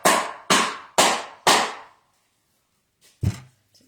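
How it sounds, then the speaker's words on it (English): A soap mold filled with hot process soap is banged on the floor to tamp it, giving four loud, evenly spaced thuds about half a second apart, followed by a pause and one more softer knock. "Bang this on the floor"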